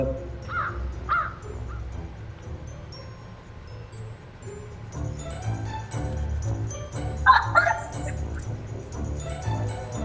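A pet crow gives several hoarse caws, close and fairly loud, spread across a quiet room with low background murmur.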